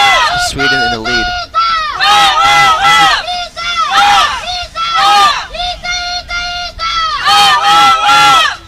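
Crowd of spectators at the European Field Archery Championships team finals in Porec erupts in loud, sustained cheering and shouting, with several excited voices rising and falling in bursts over nearly nine seconds.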